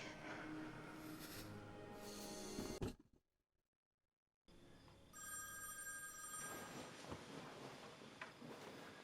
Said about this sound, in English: why is the phone ringing in the middle of the night?